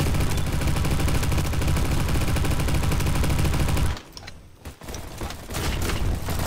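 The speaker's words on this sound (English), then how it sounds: "It's like a machine pistol, bro." Rapid automatic fire from a machine pistol in the Roblox shooter Bad Business, loud and continuous for about four seconds, then a brief quieter stretch of scattered shots before the dense firing resumes.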